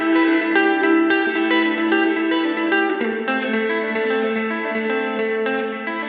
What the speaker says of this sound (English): The Ledges is a tri-voice reverb featuring Room, Hall, and Plate modes, along with user-assignable expression control and presets